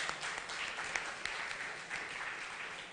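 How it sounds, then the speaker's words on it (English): A crowd applauds steadily at a symposium, a dense wash of many hands clapping at moderate distance, fairly quiet throughout. "I want you to give him a round of applause."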